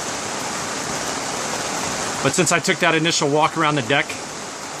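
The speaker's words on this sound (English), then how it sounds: "it has actually been just pouring down" Heavy rain pours down on a 1984 Sea Sprite 30 sailboat in a marina, a dense constant roaring hiss throughout, with someone talking over it in the second half.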